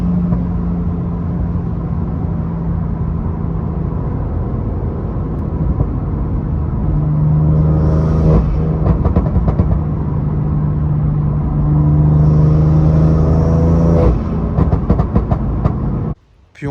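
BMW M3 F80 engine droning steadily under acceleration while driving, with rising engine tones and scattered crackling exhaust pops in two clusters, loud and close from inside the car.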